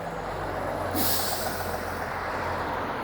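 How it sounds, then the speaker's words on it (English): A Toronto city bus on route 79 rolls past on a neighbourhood street, a low rumble topped by a single short, sharp hiss of air brakes near the one-second mark, moderately distant. "There goes the 79 bus."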